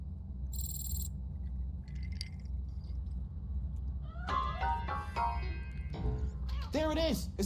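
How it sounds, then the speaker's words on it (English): A cat in the RoboCop: Rogue City video game gives a few brief meows from inside a piano, over a low ambient game hum with faint chirping in the background. "That cat must be hiding inside."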